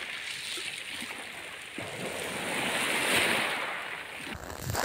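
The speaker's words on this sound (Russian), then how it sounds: "Волны плещутся" Sea waves wash and splash along a beach shore in Sochi, a steady rolling surf with swelling and receding surges, close and fairly loud with some wind buffeting, no talk.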